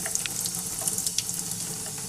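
Water pours steadily over a Canon MP190/MP210 printer ink pad tray, a continuous running-tap splash with small bright spatters throughout, fairly close and moderately quiet.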